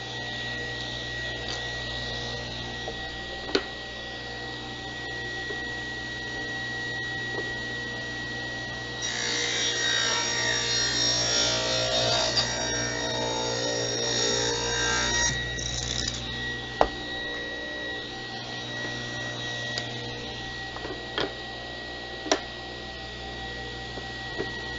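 A power tool grinding down metal staples in wooden fence pickets: a steady, fairly quiet whirring rasp with a stretch of harsher grinding in the middle and a few sharp clicks, heard alone.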